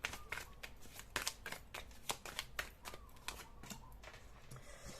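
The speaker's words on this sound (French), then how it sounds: "Je vais aller chercher une autre carte pour avoir un peu plus d'indications en quelque sorte." Tarot cards being shuffled and drawn, a rapid series of crisp riffling snaps and papery slaps, close and fairly quiet, with no voices.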